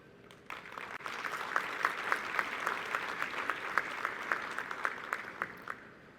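Conference audience at the COP10 opening session breaks into steady applause, a dense wash of clapping that swells after a second and stays even and fairly loud, with sharp individual claps standing out rhythmically throughout.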